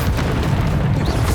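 Bombarda spell explosion in the video game Hogwarts Legacy, a loud, heavy boom with a rumbling low-end burst sustained across the moment.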